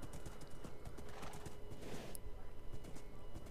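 Horse hooves in the Minecraft video game, a quick run of clip-clop steps repeating in a steady rhythm, fairly loud and close, with a brief whinny-like sound mixed in and no talking.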